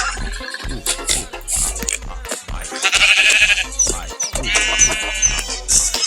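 Baby sheep in the Minecraft video game bleat repeatedly in short, wavering cries, loud and close, mixed with other farm-animal calls from the game.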